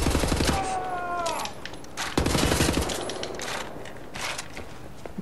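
Bursts of automatic gunfire in the shooter game Wolfenstein: The New Order, rapid loud volleys with sharp separate shots and pauses between, no talk.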